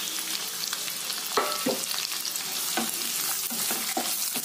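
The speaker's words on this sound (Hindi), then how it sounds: "हमने यहाँ तीन बड़े बड़े प्याज बारीक काट के रखा है, अब मैं उसको इसमें डाल दूंगी" Three large finely chopped onions sizzle steadily in a hot pan for a mushroom and pea curry, with a continuous bright crackle and a few louder clatters of stirring spread through; no one talks.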